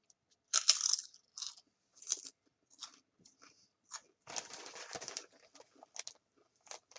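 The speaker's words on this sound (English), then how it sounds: "Tortilla chip." Someone with new dentures bites into a tortilla chip and crunches it, giving a sharp first crack followed by a series of close, irregular crunches and chewing bursts separated by quiet gaps.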